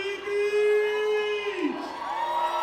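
A wrestling event crowd cheering and whooping loudly as a wrestler is introduced at ringside, a dense roar of voices with sustained yells rising and falling.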